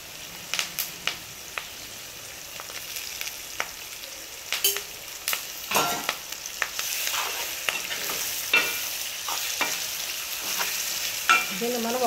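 Mutton and cucumber curry being stirred in a pan, with a soft continuous sizzle and repeated scraping clicks of a spoon against the metal, close and moderately quiet throughout.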